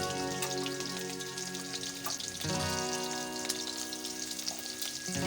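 Chopped onion and green chili sizzle in hot oil seasoned with five-spice, a steady crackling fry with scattered pops and a faint background tone, moderately quiet.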